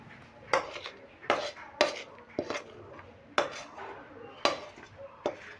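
Coriander-leaf pickle is transferred from a cooking pan into a container, with a series of sharp metallic clinks and scrapes of a utensil against the pan, spaced irregularly and close.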